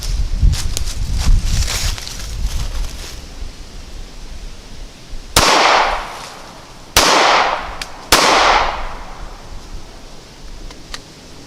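Three loud, sharp shots from a Ruger Security 9 pistol at a CCW qualification range, fired about a second apart after a stretch of wind and handling noise, with no talking.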